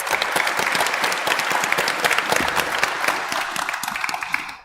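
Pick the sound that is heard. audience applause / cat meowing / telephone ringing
audience applause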